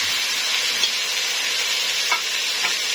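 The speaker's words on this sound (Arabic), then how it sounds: "هننزل بالرز بتاعنا وهنقعد نقلب كده" Rice is stirred with golden toasted vermicelli in a hot pot for Egyptian koshari, giving a steady frying sizzle with a few soft scraping stirs, close and alone.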